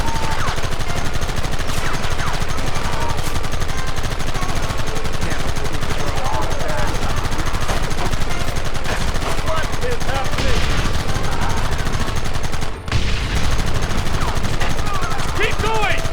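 Rapid gunfire in Red Dead Redemption, continuous overlapping shots and bursts, loud and close throughout, with shouted voices mixed into the shootout.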